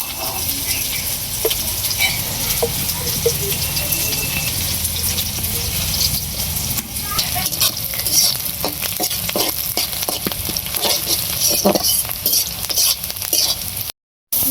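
Spice masala with onion, green chilli, turmeric, salt and chilli powder fries loudly in a pan, a dense continuous sizzle with repeated scraping stirs, close and alone before an abrupt cutoff.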